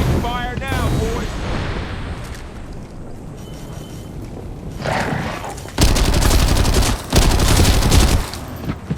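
Gunfire in the looter shooter video game SYNCED against Locust Nanos enemies: dense loud rattling bursts of automatic fire with explosive booms, strongest near the end, under a player's voice.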